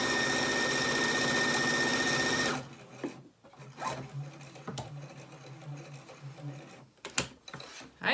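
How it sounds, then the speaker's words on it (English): A sewing machine runs steadily for about two and a half seconds while stitching a shoelace into a fabric face mask, then stops, leaving faint handling clicks and rustles close by. "Sew along the top stitch that you already have."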